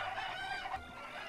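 Chickens clucking in a Zelda video game, a brief close burst of rapid clucks and crowing-like calls, loud and alone with no talk.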